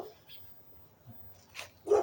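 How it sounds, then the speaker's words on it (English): A dog barks a couple of times beyond a window and fence, fairly close, with faint voices and a little background noise. "I hear the doggy."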